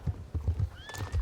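An Arabian thoroughbred horse in the video game Star Stable, hooves clip-clopping in a quick rhythm while a short high whinny rises over them, brief and close.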